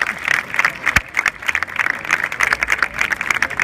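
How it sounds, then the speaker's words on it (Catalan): Crowd at a Catalan police open-day demonstration applauding the Mossos d'Esquadra officers, a busy patter of many hands at mid distance with one sharp thump near the start. "Un aplaudiment per ells una altra vegada"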